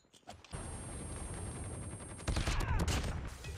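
A gun fires in Call of Duty Mobile, a short pause giving way to sustained rapid automatic shots that grow louder toward the end, with game effects underneath.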